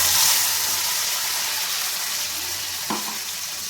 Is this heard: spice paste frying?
yes